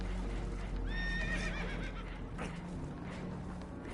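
Spooked horses whinny in a shrill, wavering neigh aboard a damaged boat taking on water in Red Dead Redemption 2, with hoof clatter and rumbling background noise around the call.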